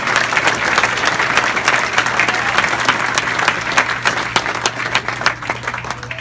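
Loud, dense applause from a corporate gathering honoring standing senior directors, many hands clapping steadily over a low hum of room noise, with some crowd murmur mixed in.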